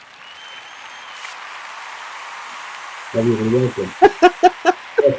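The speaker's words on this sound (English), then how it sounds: "Let me give you the claps." Applause welcoming a guest on a talk show: after a quiet stretch and a brief voice, a short run of about five sharp, evenly spaced claps rings out close by.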